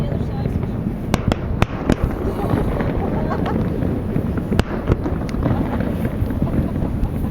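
Canada Day fireworks over Halifax in 2009, a string of sharp explosive cracks and pops at scattered intervals over a steady windy outdoor rumble, heard from a distance with crowd noise around.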